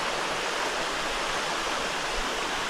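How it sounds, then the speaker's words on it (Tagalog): Steady broadband rush of a waterfall and flowing stream at Tarias Falls in San Jose, Antipolo City, a constant close, loud wash of water with no voices. "At least running water, pre, no?"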